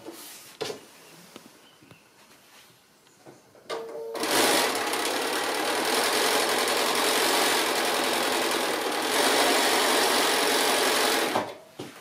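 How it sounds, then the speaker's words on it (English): A sewing machine stitches quilt-as-you-go fabric pieces with batting, starting after a few soft handling noises and then running as one steady, buzzing whir for about seven seconds before stopping. "I'm just going to continue on and sew another piece on here at a bit of an angle there"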